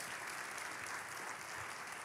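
A church congregation claps steadily together for the whole moment, a dense, even patter of many hands that sounds somewhat faint and distant, with no voices on top.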